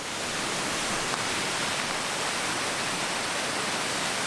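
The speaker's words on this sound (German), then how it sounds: "Da sieht man hier unten der Wasserfall." Rushing water of the Allerheiligen waterfalls, a steady broadband roar that stays dense and constant throughout without pauses or other sounds.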